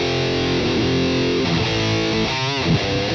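Electric guitar played through a BluGuitar AMP1 Iridium Edition on its modern channel, a thick, heavily distorted tone with sustained chords and shifting note changes, loud and upfront with no talking.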